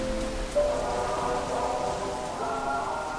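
Steady rain falls in a continuous even hiss, with a low tonal hum and faint background tones running underneath.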